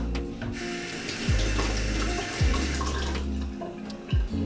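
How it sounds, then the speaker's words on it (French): Tap water running steadily into a sink while garlic cloves are rinsed, a continuous close splashing stream with a few dips and bumps as hands move under the flow. "On va les rincer."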